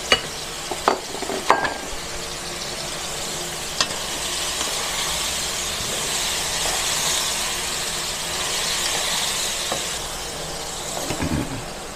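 Bottle gourd (upo) with shrimp frying in a pan, giving a steady, close sizzle with a few scraping clinks of a utensil stirring near the start, with no talk.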